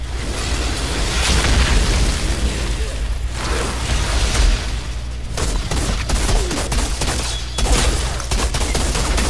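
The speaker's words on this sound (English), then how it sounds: "Stop throwing damn grenades" Grenades burst repeatedly in the shooter game Outriders, heavy booming blasts and rumbling gunfire rolling on without pause, loud and dense from start to finish.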